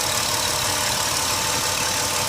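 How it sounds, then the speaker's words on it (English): A 2010 Dodge Grand Caravan SE wheelchair van with 205K miles idles smoothly and steadily, a constant close-up mechanical hum with no variation in pace. "It idles smoothly."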